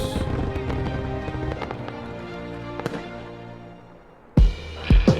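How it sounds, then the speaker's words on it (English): Scattered firework bangs and crackles popping at irregular intervals, fading out, then two louder booms close together near the end. "Fireworks."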